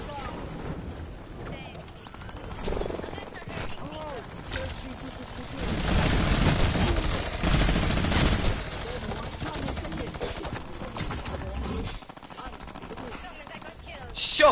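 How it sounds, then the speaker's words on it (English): A minigun in a video game gun game mode churns out a continuous rapid stream of fire, swelling louder midway, mixed with other gunfire while voices talk over it. "Minigun."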